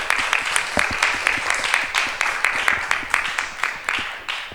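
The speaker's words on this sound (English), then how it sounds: "So let's big round of applause for our Prasadam team." A temple gathering at ISKCON Silicon Valley claps for the prasadam kitchen team, a moderate crowd producing fairly distinct, rhythmic hand claps that pulse unevenly and fade a little toward the end.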